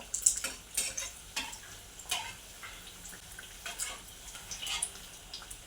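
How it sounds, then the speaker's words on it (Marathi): Bread patties (bread pakoda) deep frying in oil over a high flame, giving a soft, continuous bubbling crackle with scattered light pops. No talk over it. "अशा प्रकारे आपण पॅटीस तळून घेऊया"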